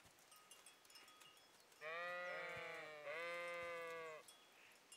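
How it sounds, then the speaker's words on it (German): Two long, loud sheep bleats from the video game Kingdom Come: Deliverance, close and clear with a short gap between them, over a quiet ambient background and no talking. "Da sind auf jeden Fall schon mal Schafe."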